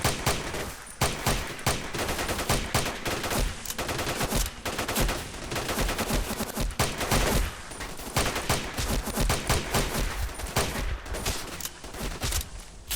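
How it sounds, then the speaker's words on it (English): Gunfire in S.T.A.L.K.E.R. Shadow of Chernobyl, with dense, loud automatic fire crackling almost without pause for the whole stretch, shots overlapping in rapid rattling bursts. "Why are you shooting the ground?"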